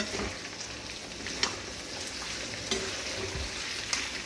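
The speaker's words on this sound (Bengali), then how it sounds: "কড়াই আমি আমার জন্য আজকে একটু চিকেন কষা বানাচ্ছি" Chicken kosha fries in a wok with a soft, continuous sizzle. Faint stirring clicks come through now and then, and the whole sound stays low and close.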